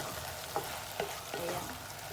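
Water bubbling in a covered pot, heated for aglio olio pasta, with a steady hiss and a few soft pops and splutters, close and fairly quiet with no voices.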